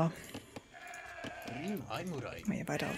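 A sheep in the strategy video game Age of Empires 2 lets out a wavering bleat amid in-game sounds, with a voice talking over it.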